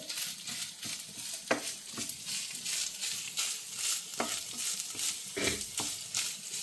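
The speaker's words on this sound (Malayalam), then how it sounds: "നന്നായി ഇളക്കി കൊടുക്കണം അല്ലെങ്കിൽ അടി പിടിക്കും കരിയാൻ ചാൻസ് ഉണ്ട്" Grated coconut being roasted and stirred in a pan for chicken curry, giving a steady dry sizzle with repeated scraping strokes of a spoon against the pan, close and continuous without talk.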